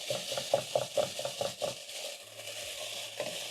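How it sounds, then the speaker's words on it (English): Minced beef sears in a non-stick pot, stirred with a wooden or silicone spatula: a steady soft sizzle runs throughout, with a quick series of close scraping stirs in the first half before the frying settles alone. "As you can see, the meat is perfectly cooking since we're getting a nice brown color."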